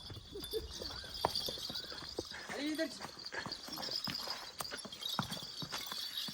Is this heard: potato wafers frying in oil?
no